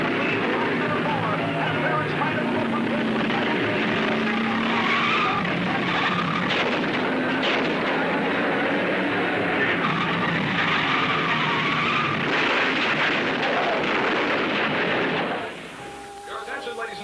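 Vintage race car skidding and spinning out during a heat race at a dirt track, loud continuous tire and engine roar with crowd-like wash throughout, ending abruptly into quieter background.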